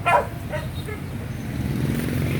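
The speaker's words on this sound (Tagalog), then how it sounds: "meron din po ako ditong dalawang aso" A dog on a small farm gives a few short barks up close at the start, followed by a steady low outdoor rumble and faint background noise.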